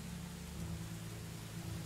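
Steady rain falling in the medieval survival game Medieval Dynasty, a dense, even hiss with a low rumbling undertone that continues without a break and without any voices.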